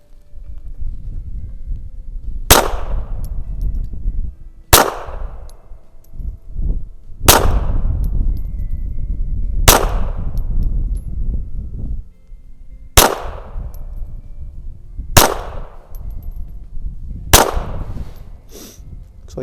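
A 1932 High Standard Model B .22 LR target pistol firing CCI standard-velocity rounds at about ten yards on a range. Seven sharp, loud, evenly spaced shots ring out, each with a brief decaying ring.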